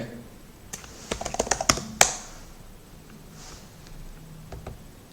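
Someone types a sudo command on a computer keyboard in a quick burst of clicky keystrokes that ends on a firm Enter press, then a few scattered taps follow against a quiet room.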